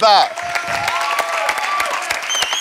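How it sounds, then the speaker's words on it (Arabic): A brief shout opens, then a crowd breaks into steady applause, loud and close, with scattered voices mixed in. "تصفيق على الاخ نبيل كلاب"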